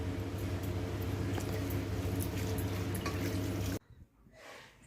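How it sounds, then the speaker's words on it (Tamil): Water poured over homemade paneer in a cloth-lined strainer to rinse it, a steady splashing rush that stops abruptly, followed by a few faint drips and trickles. "நம்ம அந்த லெமன் ஃப்ளேவர் போகிறதுக்காக நான் 1 லிட்டர் தண்ணி அளவு எடுத்து சும்மா அந்த மாதிரி"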